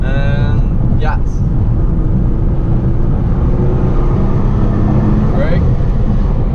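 A Nissan GT-R accelerating on a race circuit gives a steady, loud engine roar with wind rush from inside the car, holding constant throughout.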